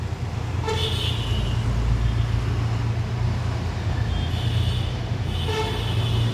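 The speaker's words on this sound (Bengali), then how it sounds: "যত পাথরের ট্রাকগুলা এখান দিয়ে যায়" Busy city road in Sylhet with stone-carrying trucks and CNG auto-rickshaws: a steady, loud low rumble of traffic runs throughout, broken by two bursts of car horn honking, one early and one near the end, with no talking.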